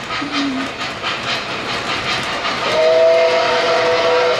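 An MTH model train Berkshire locomotive runs with a steady clickety-clack rumble, giving a short horn toot early on and then a longer sustained horn blast that holds to the end.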